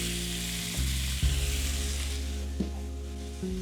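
Fresh sage hits a hot pan of butter, oil and garlic, giving a loud, steady close-up sizzle with a few sharp bursts and crackles as leaves drop in, and nobody speaks.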